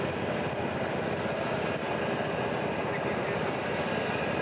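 A rally motorcycle engine runs on a Dakar race preparation as its throttle is opened slowly, producing a loud, dense, continuous roar that holds steady with no pauses.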